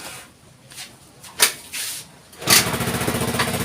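A motorcycle engine with no battery fitted gives a few scattered knocks and clatters, then catches and runs with a steady, rapid pulsing idle for the last second.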